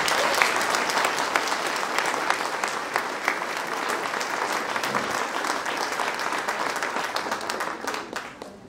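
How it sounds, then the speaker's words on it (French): A town audience at a New Year's wishes ceremony in Tarnos loudly applauds the municipal councillors, with thick, sustained clapping close by that continues for about eight seconds before fading. "je vous demande de bien vouloir les applaudir bien fort."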